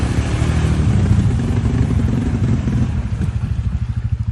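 A cheap red four-wheeler ATV engine runs during mud riding, a steady close mid-pitched rumble that turns into a pulsing, chugging throb near the end, with no talk.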